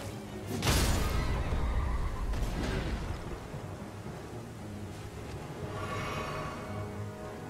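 Horse of the Night's Cavalry boss in Elden Ring giving a loud whinny, set against thunder and rain rumble, with a fainter second neigh later in the stormy scene.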